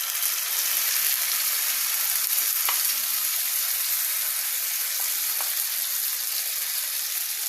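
Tomatoes added to frying onions, a dense, even hiss of sizzling oil throughout with a few faint utensil clicks, steady and close, no voices.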